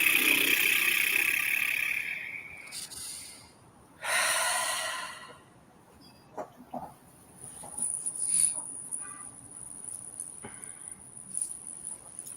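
Deep breaths are taken during a guided breathing exercise. A long, airy inhale and exhale come close and clear, then quieter breath sounds and small noises follow.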